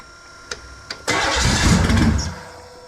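A car engine fitted with a 2-barrel carburetor, choke wide open, cranks with a couple of short clicks and then fires, catching into a loud, rough, close idle that swells and settles.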